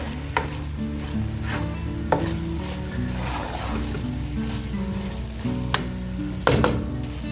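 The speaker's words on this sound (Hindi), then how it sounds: "बस हम इसको 2 से 3 मिनट हम इसको पकाएंगे हल्की आंच पे, यानी दम की आंच पे 3 मिनट तक।" Minced meat with bell peppers cooking on low heat in a pan makes a continuous sizzle, punctuated by several sharp spatula taps and scrapes at irregular intervals.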